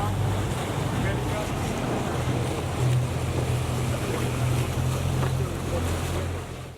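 A motorboat rides ocean swells along the Isabela coast of the Galapagos Islands near Union Rock, with a steady engine drone under rushing water and wind noise, loud and continuous throughout.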